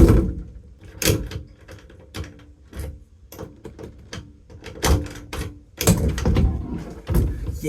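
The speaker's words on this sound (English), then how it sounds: "functioning door locks" Door locks on a Daihatsu Mira Van are worked by hand with the door panel open, a series of close, sharp mechanical clicks and clunks in irregular bursts with short quiet gaps.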